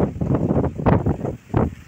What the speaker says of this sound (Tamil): போனே ஆடுது காத்துக்கு